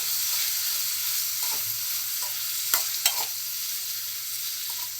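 Green peas and prawn curry, salted, sautéing in a pan: a continuous bright sizzle with a few sharp clinks and scrapes of a stirring utensil, close and steady with no talking.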